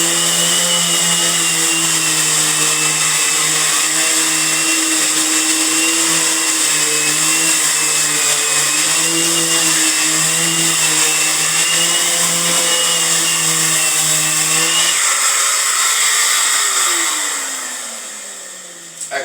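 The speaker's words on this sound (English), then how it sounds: "I'm sanding out this wall right now." A power sander hooked to a vacuum extractor runs loud and steady against a wall for about fifteen seconds with a constant tonal whine, then shuts off and winds down to near silence.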